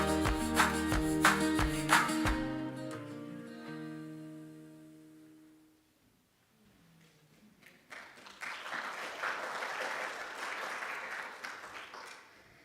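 A burst of clapping and cheering from a church service congregation rises after a sung musical passage fades, building into sustained applause.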